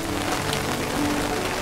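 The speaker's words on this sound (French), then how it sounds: "Je veux savoir quelle sensation fait la pluie." Steady rain falls on a surface, a dense, even hiss of drops that stays constant and fairly loud throughout, with no talk.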